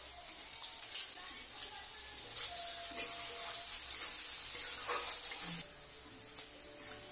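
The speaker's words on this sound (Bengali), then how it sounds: "তারপরে তেলের মধ্যে সাদা জিরে দিয়ে দিলাম, পেঁয়াজ দিয়ে দিলাম ফোড়নের জন্য।" Cumin seeds and onion sizzle in hot oil in a home kitchen, a steady bright hiss with faint crackles that swells midway, then drops back to a quieter fry.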